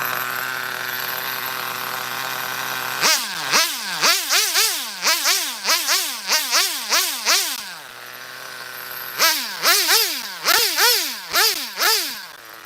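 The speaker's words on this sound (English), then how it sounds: "That engine takes a while to warm up." A nitro engine in a Megatech Nitro Razor RC car with a 2-speed transmission warms up, idling steadily before rising into repeated revving bursts. There is a pause near the middle, then another run of loud revs follows.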